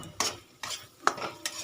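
Spice paste being stirred and sautéed in a pan for a pointed gourd dish, with four separate scraping, sizzling strokes at an even pace, heard close and alone without talk.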